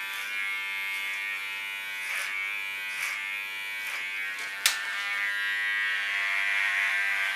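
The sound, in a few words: electric hair clipper cutting hair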